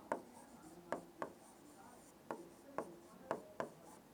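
Chalk or marker strokes on a board during a Class 10 maths lesson, about eight short separate scratches spaced irregularly, faint and close, with no voice over them.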